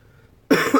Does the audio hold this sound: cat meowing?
no